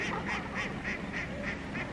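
Ducks quack in a steady rhythmic series of about seven calls at a holiday forest resort, moderately distant and fairly faint over a low outdoor background, with no talk.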